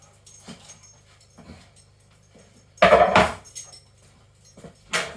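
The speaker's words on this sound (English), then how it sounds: "Bear with me a moment while I shut this dog up." A beagle in a home kitchen whimpers and whines softly, then lets out two loud sharp barks, the first a short burst and the second near the end, close by with no speech.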